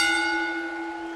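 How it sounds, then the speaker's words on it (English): Wrestling ring bell struck once at a WWE Great American Bash 2008 event, a bright metallic clang with a long ringing decay, clear and fairly loud. "Bell rings for Justin Roberts to begin the announcement of the first match"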